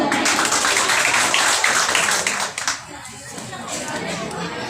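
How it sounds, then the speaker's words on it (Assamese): An audience at a Bihu workshop in Sivasagar claps loudly and densely under voices, then the applause quickly dies away, leaving quieter chatter. "আপোনালোকে এটা ডাঙৰকৈ হাত চাপৰি দিব পাৰে"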